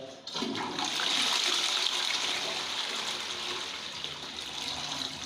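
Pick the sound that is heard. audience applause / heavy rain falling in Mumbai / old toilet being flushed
old toilet being flushed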